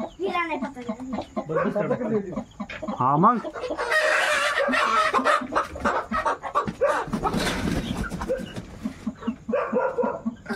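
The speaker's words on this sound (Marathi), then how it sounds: "प्रथम कोंबड्या हाकलू दे कोंबड्या कशा चावत्यात" Chickens cluck and squawk agitatedly near a snake during a rural rescue, with a rooster crow among bursts of flapping and scuffling, close by, while people talk intermittently over the birds.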